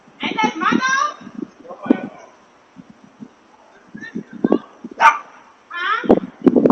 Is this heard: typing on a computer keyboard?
no